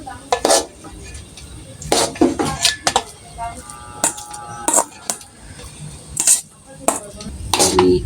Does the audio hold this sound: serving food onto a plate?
yes